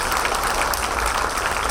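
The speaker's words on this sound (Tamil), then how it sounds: "அவங்க எல்லாருக்கும் ஒரு பலத்த கரவொலி போடலாமா?" An indoor audience at a Chinmaya Mission panel discussion in Madurai gives dense, steady applause. The clapping is loud, close and continuous, with no voices over it.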